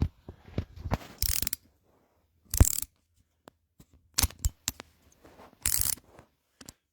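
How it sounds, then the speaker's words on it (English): A hand screwdriver tightening screws on a Lymow One robotic mower, heard as separate bursts of sharp ratcheting clicks with quiet gaps between them, close up, with no voices. "See if I can do it with a screwdriver by hand."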